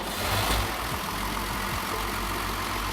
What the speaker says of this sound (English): That is a really smooth sounding 6-cylinder engine